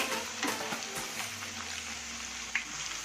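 Potato smileys fry in hot oil over a medium gas flame, a soft steady sizzle with scattered small pops and crackles, fairly quiet and with no talking.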